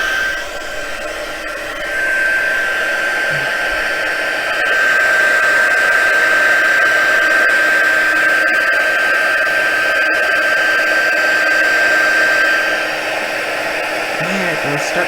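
Heat embossing tool blowing hot air steadily over embossing powder on a Christmas card, a continuous loud whooshing hiss with a faint whine, rising slightly after two seconds and running without pause throughout.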